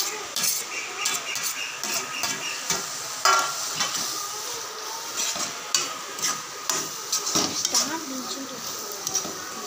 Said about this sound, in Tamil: இது வந்து ஹை ஃப்ளேம்லேயே வச்சு தான் நீங்கள் வந்து வதக்கணும்.